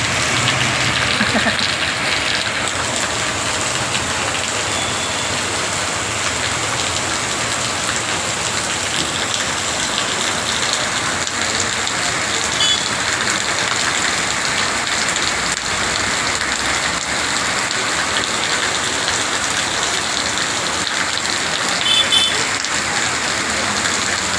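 Heavy rain pours down steadily, a dense, loud hiss of drops drumming on surfaces without letup.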